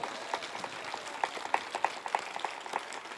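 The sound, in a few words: congregation clapping hands to thank the Lord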